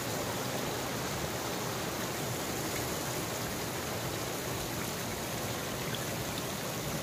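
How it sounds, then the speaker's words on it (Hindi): Steady broadband wash of falling water at Sahastradhara waterfall, droplets raining down continuously and evenly without pause, fairly close and moderately loud. "ये जो बूंदे बूंदे बरस रही है ना"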